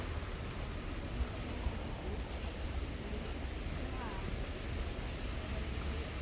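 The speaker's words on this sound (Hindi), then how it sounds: "बारिश देखें कितनी तेज़ शुरू हो गई है" Steady, dense rain hisses close by as a continuous broadband wash, with faint voices in the background.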